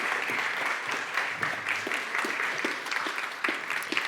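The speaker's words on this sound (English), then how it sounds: "I think they deserve a warm applause." Audience at an awards ceremony honoring women in science gives warm, steady applause, a dense patter of many hands with individual claps standing out, sustained throughout without speech.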